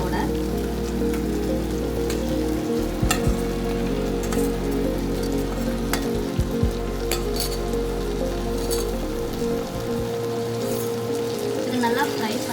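Marinated chicken sizzles and fries in hot oil for home-style chicken biryani, a steady close crackle broken by a few stirring scrapes, with a low hum running under most of it.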